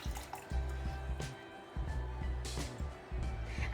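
Water poured from a dirty yogurt lid onto dry houseplants, giving close dripping and filling splashes in a few short bursts, with low household rumble underneath.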